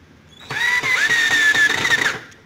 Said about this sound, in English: Now what I'm going to do is drill this here.